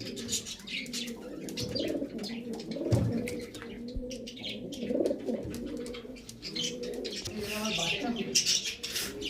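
Pigeons, including a pair of Lalpuri birds, coo repeatedly in low throaty rolls with scattered chirps, close and fairly loud throughout, with other bird sounds in the background.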